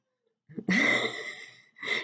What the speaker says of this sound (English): Yes, my cat disagrees with that.